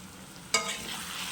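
Spoon stirring chili-powder-spiced food in a hot pan over a steady sizzle, with one sharp scrape about halfway through and the frying hiss carrying on close by.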